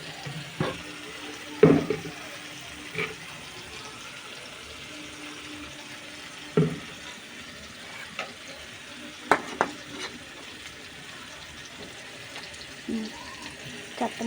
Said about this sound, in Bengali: খুব ভালোভাবে টমেটোটা নেড়ে নেড়ে গলিয়ে নেব